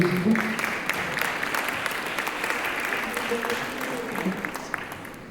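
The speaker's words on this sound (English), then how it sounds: "An applause, I think, for this lady." Audience applause at a public talk and discussion event, steady and moderately loud for several seconds, with brief voices over the clapping near the start and middle.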